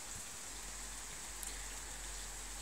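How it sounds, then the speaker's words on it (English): A rain sound effect for a dark audio story, where water floods a house, forms a steady, faint wash of rainfall with a low rumble beneath and a single small tick. "The rain picked up."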